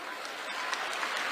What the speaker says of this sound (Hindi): तो दो जोरदार ताली बजाओ भाई।